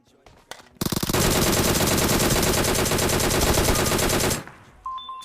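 A DP-28 light machine gun in PUBG fires one long, loud, sustained burst of rapid close shots for about three seconds, preceded by a few handling clicks and followed by quieter game sounds.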